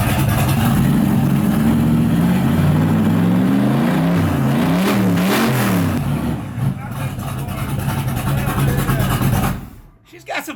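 A 1972 Rolls-Royce engine starts and revs, its pitch rising and falling in waves and then settling, while someone talks over it.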